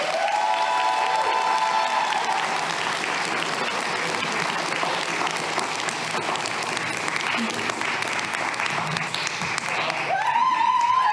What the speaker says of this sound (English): make some noise and please welcome TomSka and Eddache